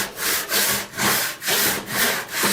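A handsaw cuts through wood clamped in a vise with loud, rhythmic back-and-forth strokes, each rasping pass swelling and fading at a steady pace, close up and with no voices.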